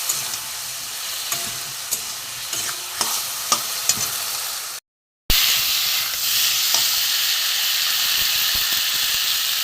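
Haluya fish curry masala frying in a pan gives a continuous hissing sizzle with sharp spatula scrapes and taps in the first half, then a brief gap before a louder, steadier sizzle returns, close and without talk.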